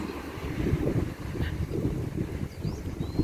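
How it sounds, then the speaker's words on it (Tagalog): Strong, gusty wind buffets the microphone in a continuous low roar, with no voices. "Mahangin kasi may bagyo."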